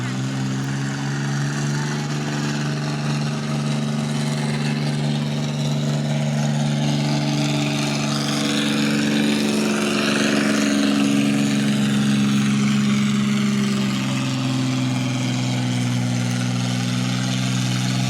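Diesel tractor engine at a barnyard tractor pull at the Georgetown Fair, a loud sustained low droning roar that rises slightly in pitch midway and then steadies, with voices partly mixed in.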